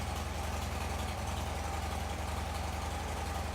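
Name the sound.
Harley Davidson Dyna Wide Glide factory exhaust idling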